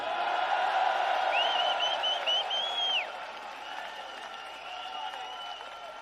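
Large outdoor rally crowd applauding and cheering, a dense sustained roar with whoops, loudest early and easing after three seconds.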